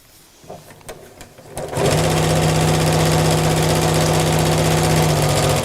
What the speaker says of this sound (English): So I'm literally sewing along the crease line.